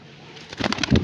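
A black-winged pigeon at a summer pigeon-flying tournament in Bareilly, Uttar Pradesh, gives a brief, close burst of cooing and fluttering that swells in the final half second after near quiet.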